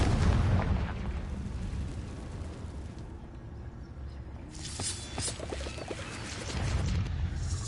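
A Confringo blasting spell goes off in Hogwarts Legacy, a heavy booming game explosion with a loud low rumble at the start, a quieter stretch of debris and effects, then another swelling burst near the end.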